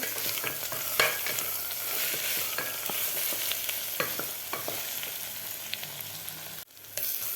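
Masala paste for Khandeshi black-masala khichdi fries in a pan with a steady broadband sizzle, punctuated by scattered clicks of a spoon stirring, continuous and fairly loud with a brief dip near the end.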